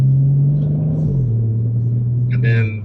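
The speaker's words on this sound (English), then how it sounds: "the sound of the exhaust is just phenomenal." A 2022 Audi RS4 exhaust rumbles with a deep, steady low drone that dips slightly in pitch, close and loud, before fading out near the end.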